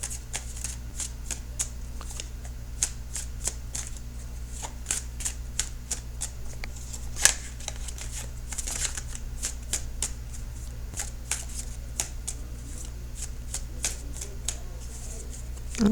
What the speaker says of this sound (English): Okay, so I'm shuffling for the outcome card.